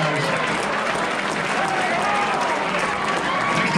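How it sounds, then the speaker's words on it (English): Crowd applause at a University of Minnesota wrestling gala auction, a dense, steady wash of clapping filling the room with a murmur of voices underneath. "Guys, give them a round of applause."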